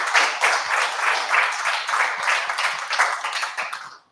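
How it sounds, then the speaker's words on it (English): Applause from an audience at a tech meetup after a talk on Microsoft Entra SSE, dense steady clapping from a crowd for about four seconds, fairly loud, then cutting off abruptly. "Another round of applause for John."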